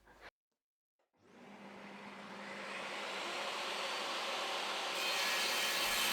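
A table saw cuts scrap wood for a drawer knife block: after a brief sound and a moment of silence, a loud steady whine and rushing cut noise builds and holds close by to the end, with no talking.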